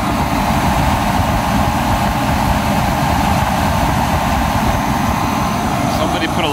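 A Chevy S10 Blazer with a rebuilt 4.3 Vortec V6 idles steadily just after a cold start, a loud, close, continuous low rumble with a clutch fan still engaged, holding an even tone throughout.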